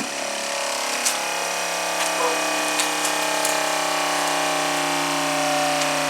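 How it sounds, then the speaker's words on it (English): A softwash pump charging a rubber hose line, a steady loud mechanical hum and whine with a constant tone, running alone without talk. "The pump is charging."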